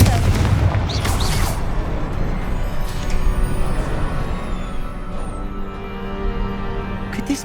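A Confringo fire-blast spell going off in Hogwarts Legacy, a deep booming burst at the start followed by a rumbling decay and ambient game tones.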